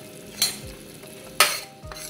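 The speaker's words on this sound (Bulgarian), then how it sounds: "Сложила съм мазнина, сложих лука." Onion fries gently in fat in a pan at the start of a yellow bean and potato stew, a low constant sizzle with a couple of sharp stirring scrapes, close and alone.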